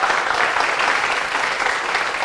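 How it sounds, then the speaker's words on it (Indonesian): A crowd of friends claps steadily and loudly for Universitas Patimura at an open mic comedy event, dense even applause with no pauses. "Tepuk tangan teman-teman semua untuk Universitas Patimura"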